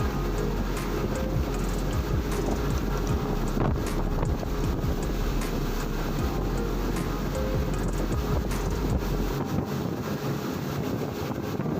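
A passenger boat cruises slowly along a yellow-watered river near Tembilahan, with a steady low engine rumble mixed with rushing water and gusty wind buffeting the microphone throughout.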